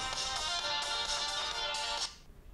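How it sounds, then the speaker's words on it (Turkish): An electronic phone ringtone, triggered from a Sony Smartwatch 2, plays a repeating melodic pattern, loud and close, then cuts off abruptly near the end. "Direkt olarak telefon çaldırıyor."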